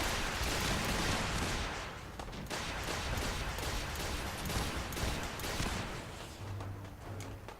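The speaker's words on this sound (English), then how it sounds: "At least we know the missile turrets are doing a massive amount of work." Missile turrets in Fallout fire a dense, continuous barrage of launches and blasts, a steady roar of overlapping detonations with no talking.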